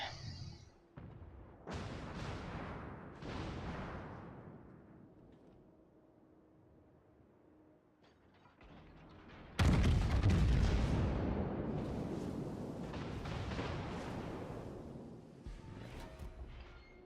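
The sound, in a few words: naval artillery fire from video game World of Warships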